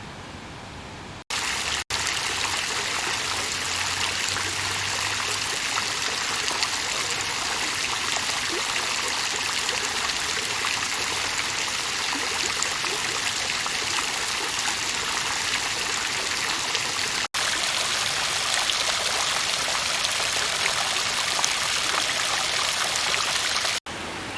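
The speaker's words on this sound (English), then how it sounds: "all the fountains are actually gravity fed from the waterfall" Water flows steadily through gravity-fed fountains supplied from a waterfall, heard as a continuous close rushing and trickling wash that runs unbroken for over twenty seconds, with no voices.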